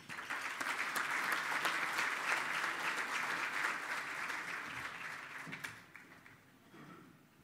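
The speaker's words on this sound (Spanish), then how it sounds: "por favor recibámoslo con un fuerte aplauso" Conference audience applause welcoming a monetary policy speaker, a full, steady round of clapping that holds for about five seconds, then thins and fades to scattered claps and quiet.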